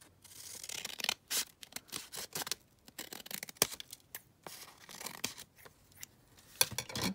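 Scissors trim a sheet of acetate for a junk journal, giving a series of crisp, close snips and cutting rasps in irregular bursts with short pauses between.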